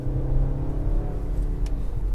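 A 2018 Audi Q3 small SUV with a 2.0-liter turbo engine pulls under acceleration. A loud, steady engine hum and rumble are heard from inside the cabin, with its tone rising slightly.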